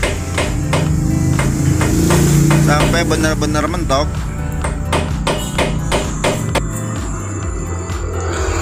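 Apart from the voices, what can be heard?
hammering a chisel to tighten motorcycle steering head nut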